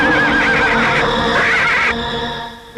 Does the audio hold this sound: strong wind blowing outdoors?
no